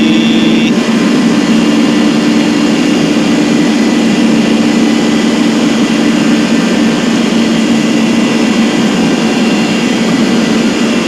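Steady, loud roar of a Ryanair Boeing 737-800's jet engines as the plane descends, a continuous cabin drone with a faint high tone at the very start and no voices.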